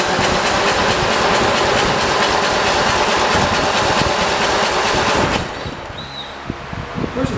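A Cub Cadet 482 garden tractor with a leaking head gasket cranks and churns in a loud, steady rumble that cuts off abruptly, leaving quieter clicks and rattles.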